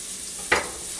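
Onions dropped into a little hot olive oil at the bottom of a pot for an Indian-style keto slaw give one short, loud sizzling burst midway, then settle back to a faint steady hiss.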